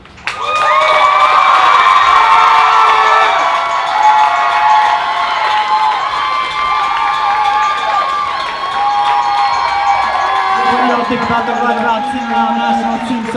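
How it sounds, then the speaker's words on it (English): Spectators at a poetry slam cheer, whoop and clap in a loud, lively burst that stays strong throughout, with excited voices ringing over the clapping and a few shouts near the end. "applause."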